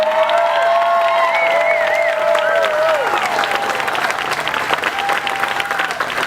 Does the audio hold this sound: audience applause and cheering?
yes